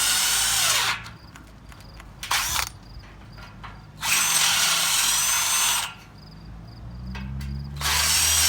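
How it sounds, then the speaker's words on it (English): Drill bores out a rivet in a steel Ford Model A frame rail with a 1/4 inch bit, running in several loud whining bursts separated by short pauses, close by with no talk. "And now I'm going to switch over to a 1/4 inch bit."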